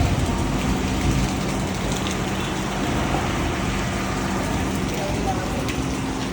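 Rain falling in Naran, northern Pakistan, a steady broadband patter that continues evenly at moderate loudness throughout, with faint background rumble.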